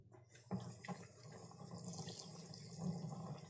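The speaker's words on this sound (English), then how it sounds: "I'm gonna give my hands a quick rinse." Tap water runs steadily into a kitchen sink while hands are rinsed beneath it, a faint, continuous splashing with small irregular surges and no talk.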